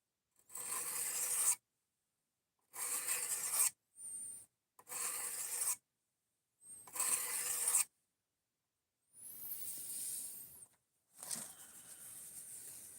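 A blade is drawn across a 600 grit sharpening stone in repeated rasping strokes, each a second or so long with short pauses between, close and distinct with no talking.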